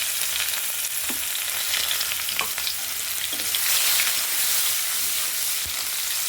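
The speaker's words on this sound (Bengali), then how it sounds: "পেঁয়াজটা ভাজা ভাজা করবো" Onions and bay leaf frying in hot oil, a continuous close sizzle with a few stirring clinks.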